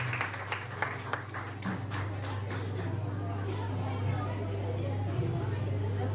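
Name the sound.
audience applause for the contest candidates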